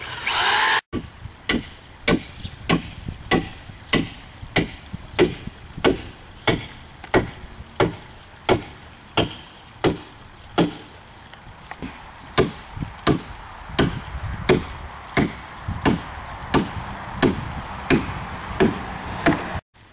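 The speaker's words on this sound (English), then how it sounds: "I'm just going to drill down through the 2 and we'll put a spike in." Sharp, evenly spaced knocks strike wood about once a second as a spike is driven into a raised vegetable bed frame, a long steady run of hammer-like blows with no talking.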